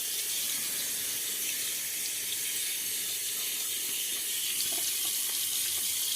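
A bathroom tap runs steadily for rinsing between shaving passes, a continuous close splashing rush of water with no talk.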